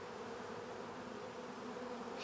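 Honeybees drone at an open hive during an inspection, a faint, continuous, close buzzing hum with no voices.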